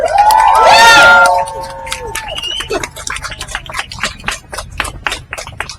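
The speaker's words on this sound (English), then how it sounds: "give a huge round of applause to broadcaster, biologist and president of the Wildlife Trust" An audience at a wildlife talk cheers and whoops loudly at first, then settles into a sustained round of clapping with scattered individual claps standing out as the noise fades.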